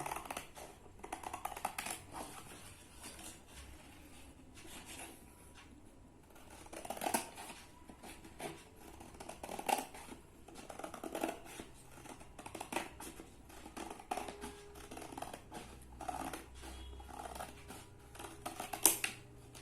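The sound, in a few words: cutting paper for a craft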